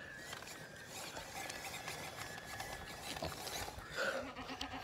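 Goats bleat a few times at moderate distance over a steady outdoor background hum, with one louder, clearer bleat near the end.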